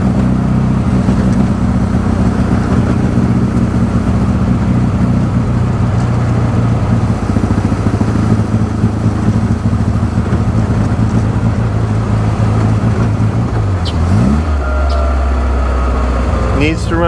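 A right-hand-drive Bugeye Sprite engine runs on choke with twin carburetors needing retuning, a loud steady rumbling idle heard close up, with a voice speaking briefly over it.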